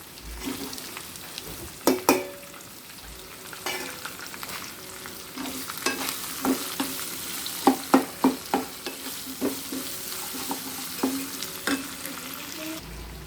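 Ginger, onion, green chillies and beans frying in a pan, a continuous close sizzle broken by repeated sharp scrapes and taps of a spatula being stirred through, louder clusters of strokes in the second half.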